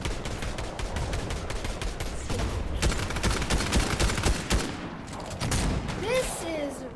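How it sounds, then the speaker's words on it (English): Rapid game gunfire in Fortnite, dense bursts of shots close and loud across the whole stretch, with a player's voice talking over the shooting. "This is one of my most favorite shotguns because you can attack pretty fast"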